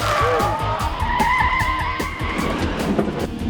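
Several cars skid and squeal their tires during a staged car chase as a smoke screen is released, loud, continuous engine roar and screeching filling the scene with no talking.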